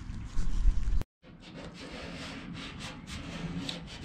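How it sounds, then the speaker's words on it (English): Masking tape being pulled off the roll and laid onto the painted surface of a Honda Civic, a short loud rub, a sudden gap, then a steady, fine tearing hiss as the tape unrolls close by. "I'm gonna go ahead and lay some tape down"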